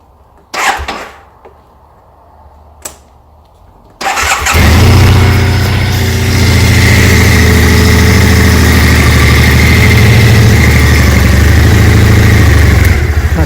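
A cold Triumph Bonneville motorcycle with British Customs Predator exhaust pipes cranks over after a couple of clicks, fires up and settles into a loud, steady, throbbing idle heard up close indoors.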